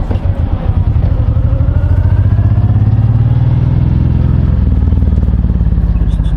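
A Honda VTX1800 motorcycle engine rumbles steadily while riding through city streets, a loud, continuous low growl that shifts pitch slightly as the bike changes speed, with no talk over it.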